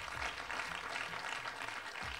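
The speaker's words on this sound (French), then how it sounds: "Applaudissements pour la femme camerounaise." Brief audience applause at the 2018 LFC Awards ceremony for Cameroonian women, a steady patter of many hands clapping at moderate distance with no voices on top.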